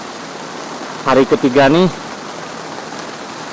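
Rain drums steadily on a Dhaulagiri Terra Pro 4 tent as a dense, even hiss that runs the whole time, while someone speaks briefly in the middle over it.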